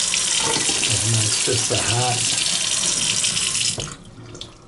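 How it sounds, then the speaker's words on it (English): Water runs steadily from a kitchen tap into a stainless steel sink at good pressure, a loud continuous rush with someone talking over it before the flow cuts off near the end. "Stainless steel sink. Again, we know the water pressure is good"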